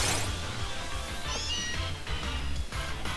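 Meowth's cry in Pokemon Sword: a short, cat-like meow heard mid-clip over steady game background sound.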